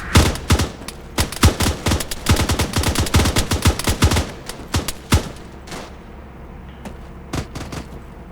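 Airsoft gunfire during a milsim game, rapid bursts of sharp snapping shots in quick succession, loud and close, thinning out to a few isolated pops toward the end.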